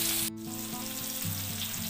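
Tomato frying in a pan with salt, a continuous close sizzle with a brief pause early on and faint stirring scrapes, no speech.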